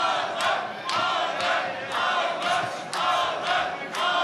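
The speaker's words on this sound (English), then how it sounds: "The crowd trying to get behind him as well." Boxing arena crowd in Istanbul chanting for Batyrgaziev at the start of round 4, loud rhythmic bursts of massed shouting repeating roughly every half second, close and energetic.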